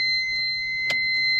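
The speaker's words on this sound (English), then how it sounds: "Sorry about the beeping, the annoying beep. That's from inside the car." A steady electronic warning beep sounds inside a $500 Honda Civic with a D15 engine, holding as a continuous high-pitched tone with a brief sharper chirp near the end.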